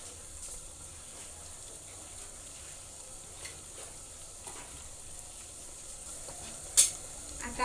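Cumin seeds and curry leaves sizzle in hot oil for a Marathi-style matar paneer, a soft steady crackle with a few sharp pops near the end and no talking.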